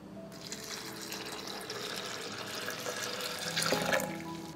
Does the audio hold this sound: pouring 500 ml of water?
yes